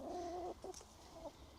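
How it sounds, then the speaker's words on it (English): A chicken in a farm pen gives a drawn-out close cluck followed by a few shorter clucking notes, fairly quiet and alone. "This one's quite a friendly chicken, I think."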